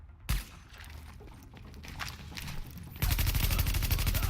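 Gunfire in The Division, opening with one sharp shot, then scattered distant shots, and from about three seconds a loud, steady rapid burst from a light machine gun, no voices present.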